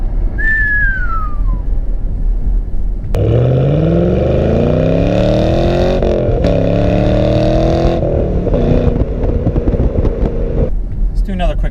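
A 2014 Chevy Camaro SS accelerates hard through the gears, its loud engine note climbing in rising sweeps with a shift break along the way, close and dominant, after a brief whistle-like whine at the start.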